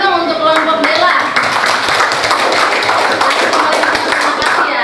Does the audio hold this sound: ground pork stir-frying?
no